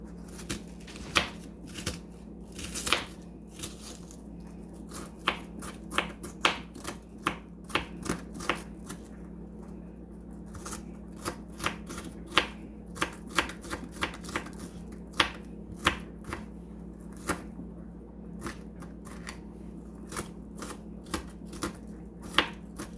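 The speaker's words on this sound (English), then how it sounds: "So you just dice up your onion." An onion diced with a knife on a cutting board, quick crisp chops in an uneven steady rhythm, close and fairly quiet, with no talking.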